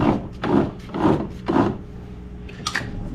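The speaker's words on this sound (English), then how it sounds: "That bottom wheel will turn" The bottom wheel of a Toro Recycler model 21465 lawn mower being turned by hand, giving three slow, rubbing scrapes in steady succession, followed by a faint light clatter.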